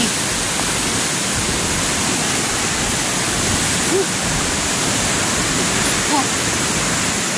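Strong floodwater rushes through the Piñan river in a loud, continuous broadband roar that stays steady and close throughout, with no clear speech over it.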